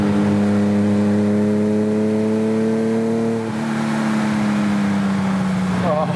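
A vintage Ferrari Daytona engine revs in a steady, loud drone that holds, then dips and settles into a slightly lower sustained tone, with a brief clatter near the end.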